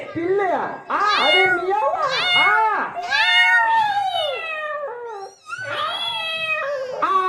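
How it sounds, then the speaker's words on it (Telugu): A black cat meows again and again, loud and close: a run of drawn-out, wavering cries in quick bursts, with a short pause before a final cluster of yowls. "ఆ గేటు కాటికి వస్తే నల్లటి పిల్లి."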